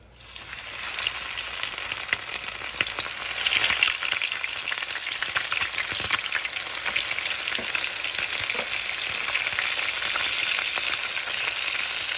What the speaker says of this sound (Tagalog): ito na muna yung piprituhin kong konti para sa akin at sa anak ko for today's lunch